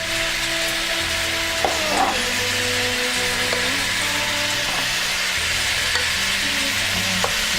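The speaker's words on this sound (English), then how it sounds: "I'm going to take my meat and I'm going to put it in my baking pan" Meat sizzles loudly and continuously in a baking pan, with occasional light scrapes and taps of a utensil against the pan.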